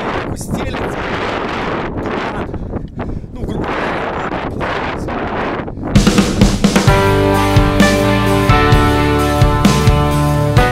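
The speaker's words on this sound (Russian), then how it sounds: "Ветер здесь сильнейший дует." Strong wind buffets the microphone on the summit of the White Rock, Ak-Kaya, in Crimea, a loud steady roar for about six seconds before music takes over.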